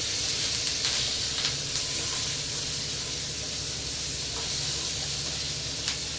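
Crushed small onions frying in hot oil, part of a dried-fish dish: a loud, steady, close hiss and crackle of sizzling that runs without a break, with a few faint pops.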